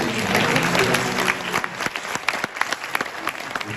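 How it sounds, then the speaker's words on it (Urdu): An audience at a community convention talk bursts into applause, loud and dense at first, then thinning into scattered separate claps toward the end. "تالیاں بجائیے"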